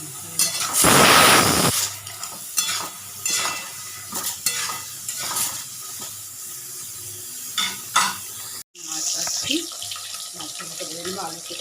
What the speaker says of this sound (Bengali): এদিকে মশলা ভাজা হচ্ছে